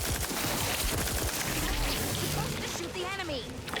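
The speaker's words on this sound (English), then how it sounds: "Shoot the enemy. I am shooting enemy." Gunfire from a firefight against enemies in the video game Outer Worlds 2, rapid shots crackling steadily beneath ongoing talk and game sounds, with a brief splashy burst near the end.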